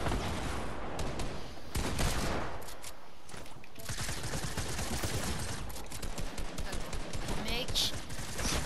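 Submachine gun fire in a first-person shooter, dense rapid bursts of shots rattling throughout over constant game noise, with a voice talking.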